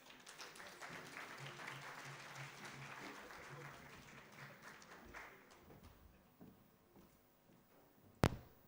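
Applause for panelists at the East Africa Capital Markets Conference, a steady wash of clapping from the audience that fades out, then a single sharp knock at the end.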